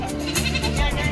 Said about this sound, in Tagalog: bumili ng mga kambing